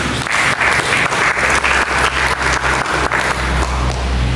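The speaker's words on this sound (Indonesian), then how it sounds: "Mari kita berikan tepuk tangan untuk Yesus." A church congregation applauds for Jesus, loud and sustained clapping from many hands that fills the space evenly throughout.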